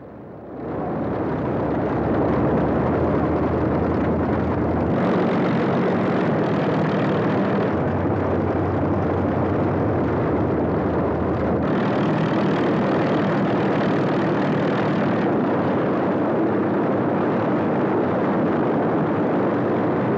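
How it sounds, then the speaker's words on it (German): Messerschmitt Me 109 fighter plane engines are started and run, giving a loud, continuous roar whose pitch and intensity shift as engines rev, with no voices. "Die Maschinen des Typs Me 109 werden angelassen."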